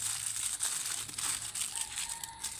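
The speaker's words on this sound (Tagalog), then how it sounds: "kumuha ka ng aluminium foil at balutin mo ulit ito ng aluminium foil papalayo sa iyo" Aluminium foil crinkles and rustles as it is folded and wrapped around a small object, soft close crumpling in irregular bursts with no talk.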